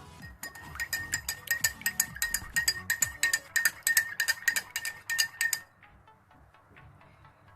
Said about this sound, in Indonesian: Kemudian kita aduk hingga merata.